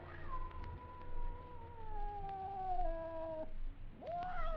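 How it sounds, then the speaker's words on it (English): A scrawny cat aboard a ship in a 1950s American radio drama gives a long, wavering, drawn-out yowl that slides downward, with a second rising cry at the end over a steady background hum. "It was a cat."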